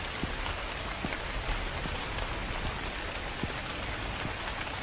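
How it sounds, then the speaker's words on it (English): Heavy rain in the Chilla's Art horror game set in a haunted 7-11 convenience store, a dense, even hiss of downpour dotted with scattered sharper drops, steady throughout with no voices. "this is some pretty heavy rain if it looks like it's flooding the place"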